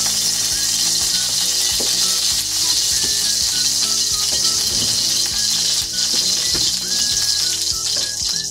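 Oil in a heated wok-style kawali sizzling steadily for frying tofu, a close, continuous crackle and hiss with occasional scraping and light clatter, no voices.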